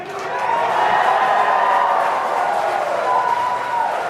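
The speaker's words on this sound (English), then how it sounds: "And you can hear some really loud cheering in the room" Loud, steady cheering and crowd noise fills a room right after the SpaceX Crew Dragon launch escape from a Falcon 9, a sustained roar of many voices lasting several seconds with no clear breaks.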